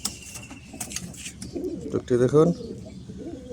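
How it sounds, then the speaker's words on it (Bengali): Domestic pigeons, including a silver male, coo in low repeated throbbing calls at close range, loudest near the middle, while someone speaks over them. "আজকে আমাদের কবুতরগুলো সব জোড়া দিব"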